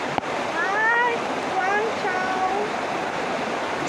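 Broadband rushing water at Wang Chung Stream (Double Dragon Falls) roars steadily and close, with a voice talking faintly over the flow.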